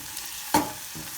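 Onions fry and soften in a pan with a constant sizzle, broken by one sharp scrape of a utensil stirring them, all close and with no talking.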